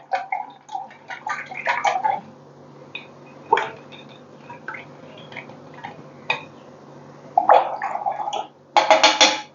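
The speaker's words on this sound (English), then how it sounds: "I'm going to rinse my brush now." A paintbrush is rinsed in a water cup during an acrylic painting session, giving bursts of swishing and clinking splashes with pauses between, close and fairly loud, ending in a dense flurry of sloshing.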